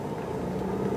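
A Mercedes-Benz engine running during a test drive while suffering from low turbo boost and lack of power, a steady close droning hum with no talk over it.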